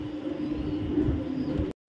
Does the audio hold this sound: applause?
no